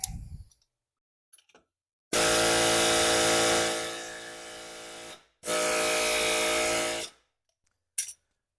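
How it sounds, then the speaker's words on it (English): Air hammer hitting a hot nut, two long loud bursts of rapid pneumatic hammering with a short gap between them, followed by brief clicks and quiet moments. "I'm going to hit it with the air hammer here first"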